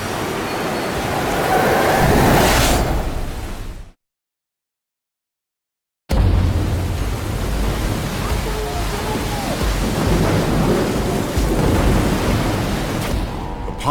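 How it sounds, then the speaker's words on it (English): A storm at sea off the coast of Africa, with rain, surf and rumbling thunder forming a loud, steady wash of noise, cut by about two seconds of silence before the storm resumes. "Caught in a storm off the coast of Africa,"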